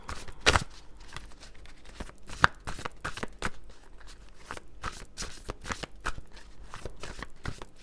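Tarot cards being shuffled by hand, a steady run of crisp riffling flicks and soft slaps close up, with one sharper snap near the start.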